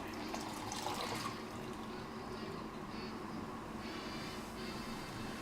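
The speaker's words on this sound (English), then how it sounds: "Alright, so we pour the rest of this out." Hot water poured out during tea brewing, a steady continuous splash and trickle of liquid heard close by, lasting throughout with no pauses.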